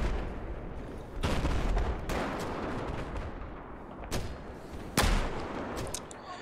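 Rifle gunfire and tank fire in the game Battlefield 4 form a dense, loud barrage of sharp shots and heavy booms. Several sudden blasts burst out over a constant roar of battle, with no talk.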